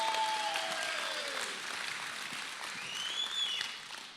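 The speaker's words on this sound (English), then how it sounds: "Give yourselves a round of applause." A church congregation claps in a sustained round of applause, with a few whoops rising over the steady broadband patter from the crowd before it begins to fade.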